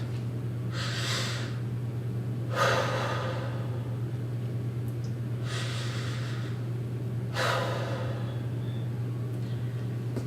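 Slow deep breaths held through a bridge exercise in a stability and mobility workout, two long airy inhale-exhale cycles, close to the mic over a steady background hum.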